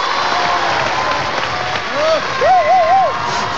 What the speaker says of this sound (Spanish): este aplauso entusiasta del público